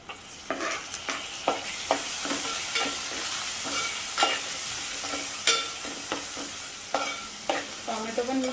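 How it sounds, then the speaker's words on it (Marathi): Onion and tomato frying in oil for an Agri-style bombil, brinjal and potato curry, with close sizzling under repeated sharp scrapes and clinks of a spatula stirring the pan. "कांदा देखील आता मऊ होईपर्यंत परतून घेते तेलामध्ये"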